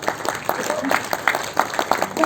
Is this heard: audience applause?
yes